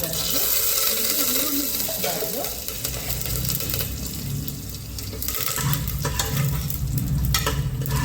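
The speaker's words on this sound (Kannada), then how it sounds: "ಒಗ್ಗರಣೆಗೆ ಇಷ್ಟೇ ಹಾಕೋದು ಸಾಸಿವೆ ಮತ್ತೆ ಮೆಣಸಿನ್ಕಾಯಿ ಕರಿಬೇವು ಇಷ್ಟು ಸಾಕು" Mustard seeds, green chillies and curry leaves hit hot oil for a tempering, giving a continuous loud sizzle and crackle with stirring, and a voice talks over it.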